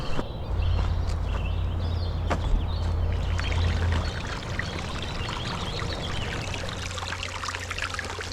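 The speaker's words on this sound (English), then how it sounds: "Pretty cascade the whole way." A mountain cascade in the White Mountains rushes and pours beside a steep, slick hiking trail, a loud continuous wash of water heard up close.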